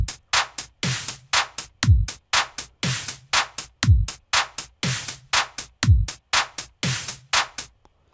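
A drum machine sequence programmed in Audiotool Machiniste plays a steady, looping electronic beat of crisp hits and punchy low kicks in a repeating pattern, clean and up front, ending abruptly.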